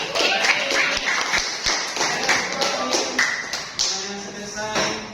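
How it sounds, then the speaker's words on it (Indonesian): Schoolchildren in an Islamic religious education classroom clap their hands together after a correct quiz answer, a busy run of sharp, close claps with some voices mixed in. "Tepuk tangan semua"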